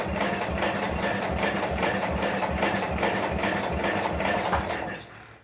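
An MTD 990 garden tractor engine, started for the first time in 15 years and needing carburetor work, runs close and loud with a steady, rhythmic chugging idle before cutting out at the very end.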